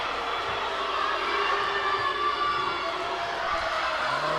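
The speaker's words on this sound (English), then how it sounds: "the Tiger crowd didn't like that call" A Tiger home crowd at a women's high school basketball game, Neville vs. Sulphur, roars in displeasure at a referee's call, a dense sustained wash of voices filling the gym at steady loudness.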